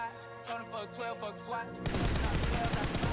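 Rapid automatic gunfire sprays in PUBG Mobile, a dense, loud burst that starts abruptly partway through and continues to the end, following a stretch of tonal music.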